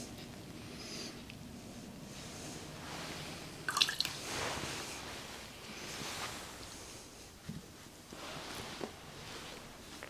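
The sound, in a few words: water dripping into whisky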